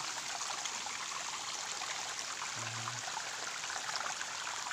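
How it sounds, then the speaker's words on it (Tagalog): A shallow creek flows in an outdoor dig area with a soft, constant trickling rush. It is steady and even throughout, fairly quiet and unbroken. "Ito sa sapa."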